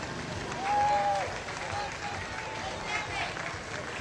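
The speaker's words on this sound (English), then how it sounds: "A round of applause for them." Scattered outdoor applause and crowd noise rise for high school cross-country teams passing in a small-town tomato festival parade, with chatter and a whistle over the clapping.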